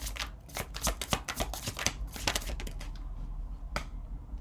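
Tarot cards shuffled by hand in crisp, rapid riffles and flicks that fill the first three seconds, then quiet down before one sharp snap of a card being drawn near the end.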